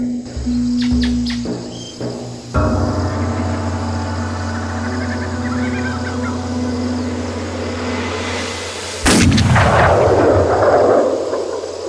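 A gunshot in a Hindi action thriller film cracks once loudly late on, against a steady bed of insect-like chirping and a low hum, with a few sharper clicks and knocks heard earlier.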